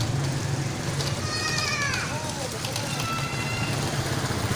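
A goat at a livestock market bleats in a wavering cry, then a second shorter bleat follows, both set against a busy background hum of traffic and engines.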